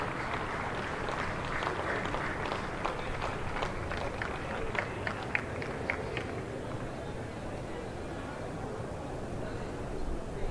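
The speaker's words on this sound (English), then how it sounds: "Applause for that one as well." A county cricket crowd at a Middlesex versus Surrey Championship match applauds Middlesex reaching 200 runs. Scattered, moderate clapping lasts a few seconds over a low murmur, then fades back into the ground's ambience.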